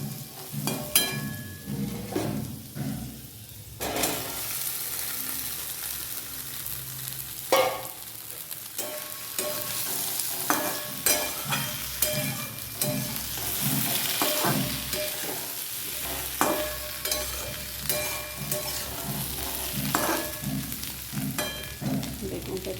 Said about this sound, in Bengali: আলুগুলো কি সুন্দর ভাজা হয়েছে চলো এবার বেগুনটা দিয়ে দিই